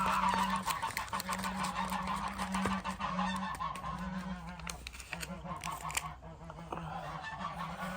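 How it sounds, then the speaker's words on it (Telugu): Farm ducks outside in a Korean winter honk and quack loudly and repeatedly. The calls overlap against a steady low hum. "ఆ బాతులు ఏవో బాగా గట్టిగా అరుస్తున్నాయి బయట"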